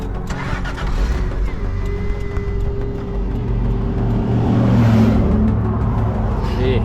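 An overland vehicle's engine starts after a loose fuel pump connection is repaired. It cranks and catches into a steady loud idle, then swells slightly as though revved, heard close with no talking over it.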